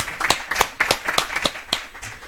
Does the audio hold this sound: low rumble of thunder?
no